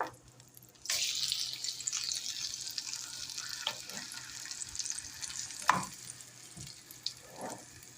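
A seasoned fish fillet fries in a pan, starting with a sudden loud sizzle as it hits the hot oil, then settling into a quieter steady hiss broken by a few clinks and pops.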